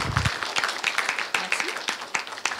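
Audience applause at a talk on open data in Beauvais, scattered claps of a modest crowd, irregular and fairly near, with a voice briefly at the start.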